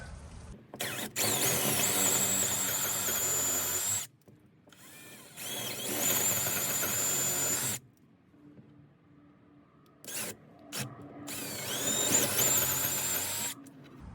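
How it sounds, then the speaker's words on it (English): A power drill whirs in three bursts of several seconds each, boring 3 3/8-inch holes in wood for a fence gate, pitch bending as the bit bites into the wood, with short quiet gaps between. "So we'll go ahead and drill the holes for this"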